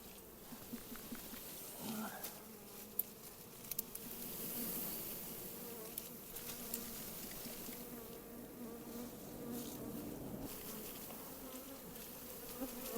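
A large swarm of honey bees hums continuously and fairly close, with many wings buzzing at once and faint handling noises scattered through it.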